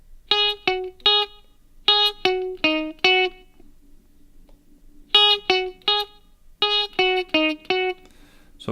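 Guitar, apparently amplified, plays the second measure of a song, two short groups of clipped, plucked notes separated by a pause, close and clear without talking.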